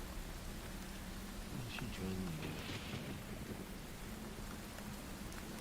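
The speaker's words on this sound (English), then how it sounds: "Get a little bit of rain action going on here." Rain and thunder sound effect, a steady hiss of falling rain with low rumbling thunder rolling underneath, heard faintly from start to finish.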